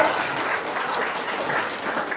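An audience claps steadily through the whole stretch, a dense, even patter of many hands held at a fairly constant level without pauses.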